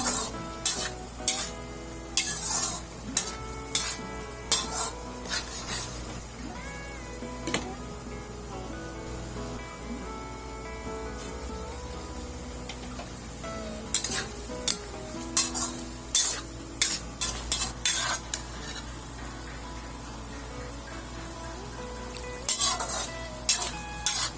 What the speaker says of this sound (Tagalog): Make sure lang na palagian natin tong haluin para pantay ang pagkakaluto ng ating karne.